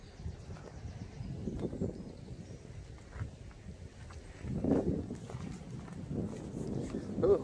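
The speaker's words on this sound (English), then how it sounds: "Ooh, a horsey. There's a horsey." Horse walking along an old railway path, soft hoof clip-clops faint under steady outdoor background, with a person speaking nearby.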